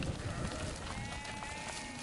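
A flock of sheep bleats along a trail in Colorado, several overlapping calls amid shuffling and outdoor noise, with a person talking nearby.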